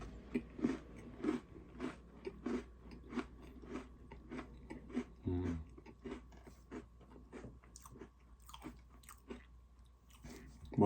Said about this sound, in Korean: 최대한 빠르게 먹을게요.